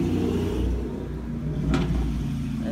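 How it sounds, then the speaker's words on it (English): A Ford Mustang passes close by outdoors, a steady, full engine rumble that swells slightly and holds throughout with no voices. "it's a Mustang, that's a cool car"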